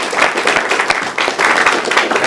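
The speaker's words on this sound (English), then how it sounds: "let's clap for him" A university innovation week audience applauds a guest, dense close clapping with uneven bursts and a brief dip midway before the applause picks back up.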